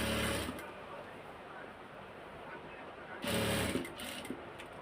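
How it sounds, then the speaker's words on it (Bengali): A sewing machine stitches a folded hem in a steady whirring run, starting loud, continuing more quietly through the middle, then surging again near the end, with someone speaking over it. "নিচের হ্যাম সাইডে যে সেলাইটা দিতে হয় ভাঁজ করে, সেই সেলাইটা দিচ্ছি এখন।"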